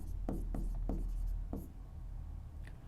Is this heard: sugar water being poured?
no